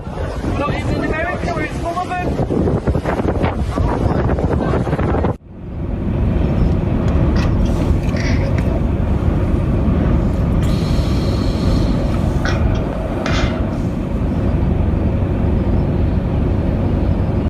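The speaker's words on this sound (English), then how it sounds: "a violent tornado came dangerously close to their vessel" Violent tornado winds roaring near a cruise ship off the coast of Florida, heavy buffeting gusts pounding the microphone, with an abrupt cut partway through into continued dense wind rumble.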